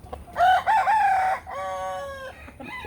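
A rooster from a backyard chicken flock crows once, loud and close, in a drawn-out call that rises, holds, then trails off in a second, lower phrase, with no talking.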